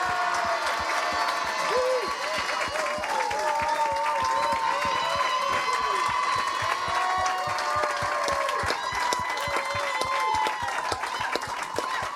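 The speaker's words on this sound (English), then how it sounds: "would you please give an enormous round of applause?" A large crowd at a live rugby club show claps continuously with scattered cheers and whoops, a dense, sustained roar of applause throughout.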